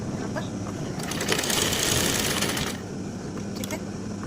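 Sewing machine running steadily while stitching pants with lace trim, a continuous loud mechanical whir that swells in the middle, then drops back to a lighter hum.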